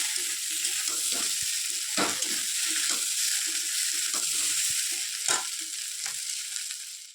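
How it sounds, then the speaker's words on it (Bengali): Potatoes fry in a pan with a little turmeric, giving a bright, continuous sizzle up close, with a few sharp knocks and scrapes as the pieces are stirred. "ভেজে নিচ্ছি"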